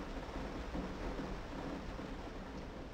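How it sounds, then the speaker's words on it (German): Steady broadband rain falls in the Minecraft video game, a continuous hiss with soft rumbling underneath at moderate level throughout, no talk. "Ah, weil es regnet."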